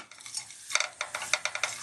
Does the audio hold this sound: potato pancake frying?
yes